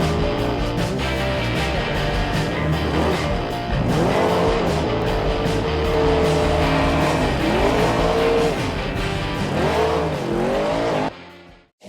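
A 2022 Porsche Cayenne Turbo GT is driven hard in the Assetto Corsa racing game on a Swedish setting, its engine loud and steady with repeated rising and falling revs, tire squeal and skidding through corners, ending in a sudden cut.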